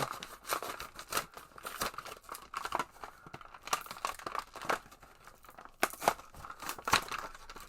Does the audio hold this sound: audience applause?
no